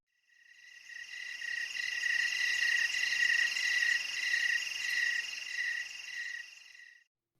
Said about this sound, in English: Boy, crickets